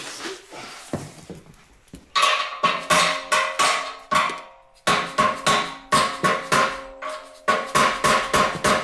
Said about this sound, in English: Kind of an awkward hammering angle